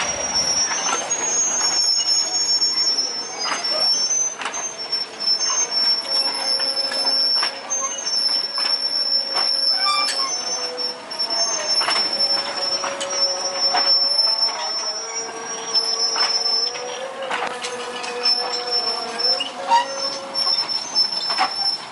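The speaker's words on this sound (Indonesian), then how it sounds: "lokomotif lewat di samping warung warga dengan kecepatan yang lumayan cepat" A sugar cane train locomotive passes at night beside roadside stalls near a level crossing in Magersari, its wheels squealing shrilly and steadily against the rails with clattering wagons rumbling by close and loud for the whole stretch.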